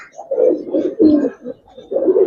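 Gribaz coloring pigeons coo in a loft, with soft, close, repeated low coos in rolling phrases.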